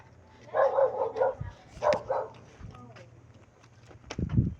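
A dog barks a few times in quick bursts, somewhat distant, while people talk and call out around it.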